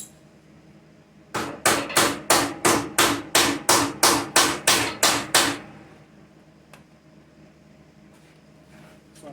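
A hammer strikes the overlapping sheet-metal body panels of a Fox Body Mustang GT to close them up before MIG plug welding, giving about a dozen loud, sharp, evenly spaced metallic blows in a quick steady rhythm, then quiet shop ambience with faint ticks.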